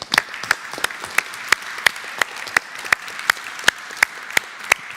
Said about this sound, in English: So please, applause for you.